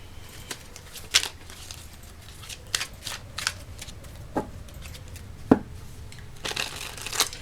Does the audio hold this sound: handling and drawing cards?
yes